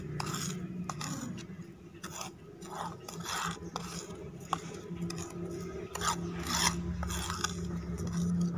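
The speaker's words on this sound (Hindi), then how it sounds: "इन सबको दही के अंदर डाल के अच्छे तरीके से मिक्स कर लेना है" Steady scraping and stirring of a spoon against a bowl as spices are mixed into yogurt, continuous rubbing strokes with occasional clinks, close and moderately quiet.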